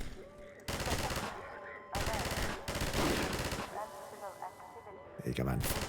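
Gunfire from the video game Half-Life 2 comes in several loud, dense bursts with short gaps between them, and a voice talks between and over the shots.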